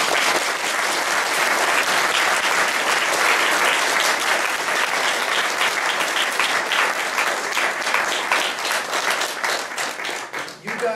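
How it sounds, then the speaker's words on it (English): Sustained loud applause from an audience honoring Boy Scout leaders, dense steady clapping for about ten seconds before tapering off slightly at the end. "So please join me in a big round of applause for Mr. Nolan, Mr. Mallet, Mr. Angie, and Mr. Kieran."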